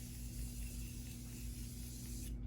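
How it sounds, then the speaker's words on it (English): Morphe Continuous Setting Spray misted onto a face during a makeup routine, a steady soft hissing spray lasting a couple of seconds at close range before cutting off. "I'm gonna first go in with my Morphe Continuous Setting Spray and set my face"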